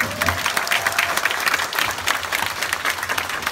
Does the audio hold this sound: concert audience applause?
yes